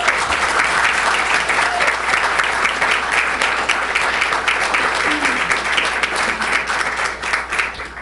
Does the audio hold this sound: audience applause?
yes